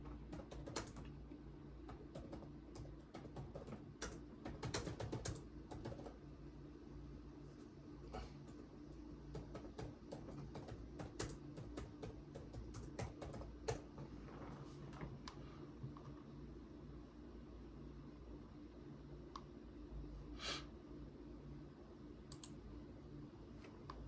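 Quiet typing on a computer keyboard, irregular bursts of soft key clicks over a low steady room hum for a long stretch.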